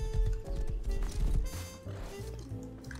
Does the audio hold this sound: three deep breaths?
no